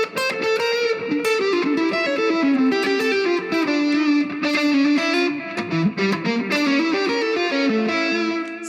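Electric guitar with distortion and effects plays a jazz motif that targets the thirds of the chords, a continuous flowing line of sustained, singing notes, loud and close.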